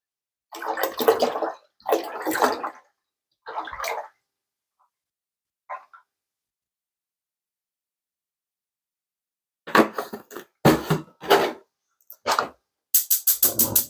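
Whole milk is poured into a large stainless steel Dutch oven in a home kitchen. Several short liquid splashing bursts start and stop, separated by long silent pauses, close to the microphone.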